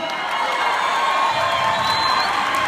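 A concert crowd at the Hard Rock Hotel applauds and cheers for a band, a dense, loud wall of clapping and whoops that holds steady throughout.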